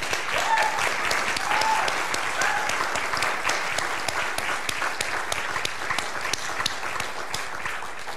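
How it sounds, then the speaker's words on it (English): An audience at a talk breaks into sustained applause, many hands clapping in a dense, steady wash that holds at an even level for the whole stretch. "Let's give her some applause."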